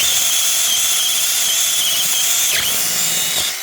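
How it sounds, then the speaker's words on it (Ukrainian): A cordless drill whines loudly and continuously at close range, its pitch dipping briefly as the bit bites into a pear, then winding down. "що я цим шуриком ще ні разу не свердлив грушку"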